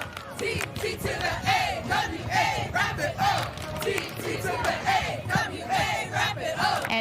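A large crowd of Ottawa Rapid FC supporters roars and chants in a packed stadium at a soccer match, with sustained loud cheering and rhythmic voices rising and falling throughout.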